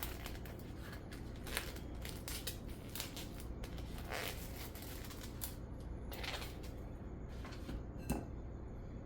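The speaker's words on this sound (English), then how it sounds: "we're going to cut up the sausage right now" A knife cuts bratwurst sausage on a board, giving faint, repeated soft slicing taps and crackles at an uneven pace over a low background hum.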